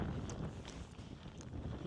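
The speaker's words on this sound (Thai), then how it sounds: "ลมแรงมากอะอยากบอกว่าลมแรงมาก" Strong wind buffets the microphone outdoors on the Isle of Skye in Scotland, a steady, rough low rumble with gusting swells throughout and no talking.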